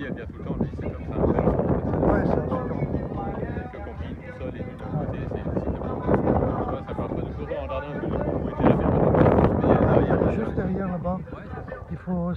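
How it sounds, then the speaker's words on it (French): Wind gusts across open coastal sand dunes, a steady low roaring buffet on the microphone that swells and eases throughout, with people chatting over it. "il y a du vent et tout"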